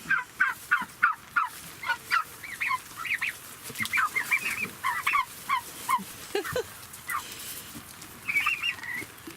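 A small flock of turkeys gobbles and chatters near a coop being filled with gravel, a steady run of warbling, honking calls at moderate distance over a low outdoor background.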